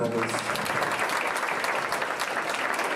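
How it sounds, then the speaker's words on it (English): Audience at a jazz panel at the Improv clapping, a dense, steady burst of applause for about three seconds. "How about a round of applause for our panelists?"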